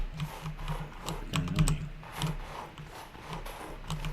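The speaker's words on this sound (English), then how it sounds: "I am really sorry if my keyboard's loud. I have a mechanical keyboard" Clicky mechanical keyboard keys are typed in quick irregular bursts, close and moderately loud, with no voices over the clatter.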